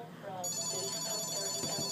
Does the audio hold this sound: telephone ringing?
yes